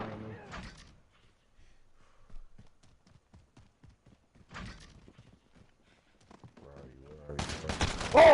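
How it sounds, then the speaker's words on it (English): Sparse rapid gunshots from a Modern Warfare match, faint distant cracks ticking out across the middle under quiet game sound, with a louder burst of noise near the end. "Somebody's shooting at me."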